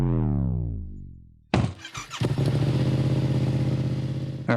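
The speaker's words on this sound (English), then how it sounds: "the Akrapovic Carbon exhaust for the Yamaha MT-07" Yamaha MT-07 motorcycle fitted with an Akrapovic carbon exhaust, loud and close: a falling engine whine, then a sharp burst of revving that settles into a steady, throbbing growl and ends with a short blip.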